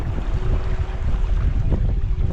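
Strong wind roars and buffets the microphone at a spin-fishing spot, a loud, continuous low rumble with gusty surges; no voices.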